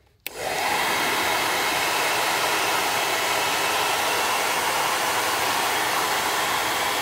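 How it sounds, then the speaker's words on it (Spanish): A hair dryer switches on at maximum heat to shrink a plastic wrap onto an 18650 battery. It gives a sudden click, then a steady, loud, close whoosh of blowing air that runs on without a break. "Para ello, pues el secador. Le meto la temperatura máxima y a darle."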